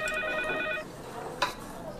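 A telephone rings with a bright, trilling electronic tone that stops short, followed by quiet room sound and a brief clack, while the call goes unanswered.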